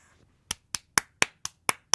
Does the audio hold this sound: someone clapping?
yes